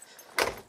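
A VW 1500 Type III car door shutting, a single short thud with rattle, close and fairly loud, alone with no talk.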